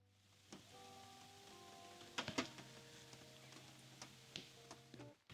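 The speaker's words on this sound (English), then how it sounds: "just hearing the rain splash on like the top of the roof" Rain patters and splashes on a roof overhead, soft and steady with a few sharper knocks, under a low, even hum.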